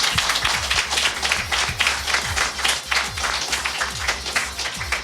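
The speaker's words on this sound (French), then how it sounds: "Un tonnerre d'applaudissements." A crowd breaks into loud, sustained applause, dense overlapping claps filling the space evenly for several seconds without pause.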